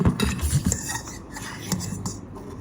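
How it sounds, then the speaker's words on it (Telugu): A fork presses and scrapes through banana in a bowl, giving soft squelches with light metallic clinks and taps in an irregular rhythm, close and fairly loud. "కలుపుడం కాదు, మ్యాష్ చేయి. బనానా మ్యాష్ చేయి."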